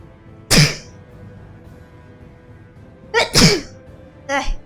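Three loud, sharp human sneezes in a quiet room, one early and two later in close succession, with no talk between them.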